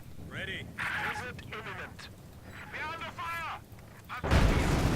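Mortar and artillery fire in the Company of Heroes 2 strategy game: someone talks over quieter game noise, then a loud, close blast of explosive fire cuts in near the end.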